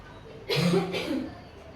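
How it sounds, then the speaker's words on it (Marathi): Two short, throaty coughs in quick succession, close by, followed by quiet. "खोकला लागलं काय"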